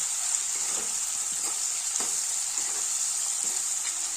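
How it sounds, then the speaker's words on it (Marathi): Finely chopped onion frying in oil until reddish for a brinjal curry, a steady, fairly loud hiss with faint intermittent stirring scrapes underneath. "कांदा थोडासा गुलाबी रंगावर येईपर्यंत, छान लालसर होईपर्यंत परतून घ्यायचं"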